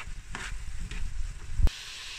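A spoon stirs garlic paste around a frying pan, with soft scraping strokes and a low sizzle, ending in a sharp clack against the pan.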